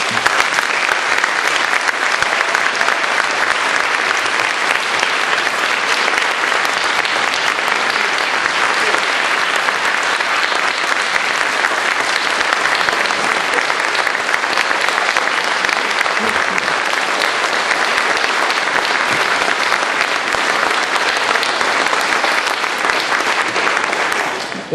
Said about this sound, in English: I think y'all need to give them a big round of applause as well.